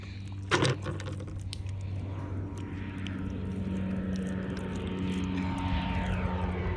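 A propeller airplane drones overhead while someone searches for cockles on a coastal mudflat, its faint steady engine hum slowly building and lingering in the distance after a brief close knock at the start.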